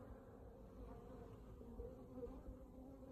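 Honey bees flying around a hive in spring, bringing in pollen: a faint, steady, low droning buzz with no voices, quiet and continuous throughout.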